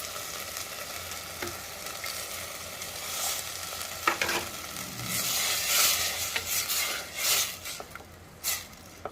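Thick tomato gravy for a green gram saaru bubbles and sizzles in a pot while a spoon stirs and scrapes it in irregular bursts, close by with no talking.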